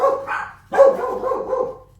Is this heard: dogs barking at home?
yes